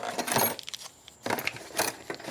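A set of lock keys, including the two spare keys packed with a Kwikset SmartCode 270 deadbolt kit, jingles in a few short metallic bursts, with quieter pauses between them.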